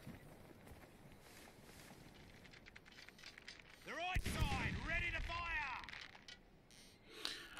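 Cannon fire in a sea battle in the video game Sea Dogs, a distant boom followed by rising, whistling shot sounds and a rumbling fusillade over a low background ambience.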